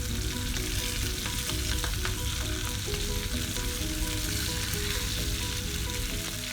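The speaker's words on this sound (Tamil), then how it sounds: "இப்போ மட்டன் பீசஸ் எல்லாம் வந்து சூப்பராக ஃப்ரை ஆயிடுச்சு" Mutton pieces fry in a pan for homemade mutton mandi, a loud, continuous crackling sizzle that holds steady throughout with no one speaking.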